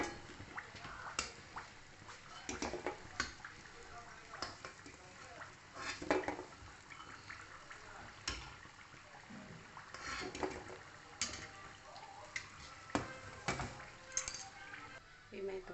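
Samosas fry in hot oil in a home kitchen, a soft continuous sizzle broken by scattered clinks and scrapes of a utensil against the pan, quiet throughout.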